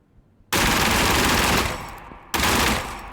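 Tommy gun firing in Gunsmith Simulator, two loud sustained automatic bursts, the first lasting over a second and a half, then a short pause before a second burst that trails off.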